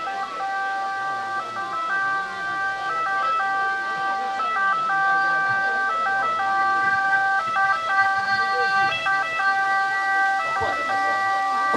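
Loud wailing ambulance siren cycling steadily through its tones at a fireworks festival for San Pio, sounding close and continuous over a low street crowd murmur.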